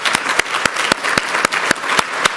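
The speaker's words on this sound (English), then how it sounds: "let's give them a big round of applause" A symposium audience gives a round of applause, the clapping dense and even with distinct sharp claps recurring at a steady beat, fairly close and loud.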